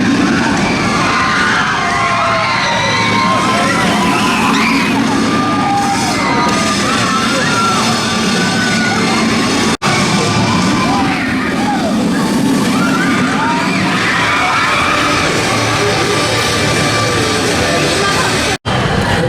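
A ride on the Swarm roller coaster at Thorpe Park during a carnival day: loud continuous rushing roar with rattling and clatter, crowd noise and shouting layered throughout, two abrupt dropouts.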